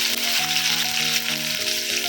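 Steady sizzling of onion frying in hot oil with cumin and fenugreek for fish curry, continuous and close, with a faint tonal hum running underneath.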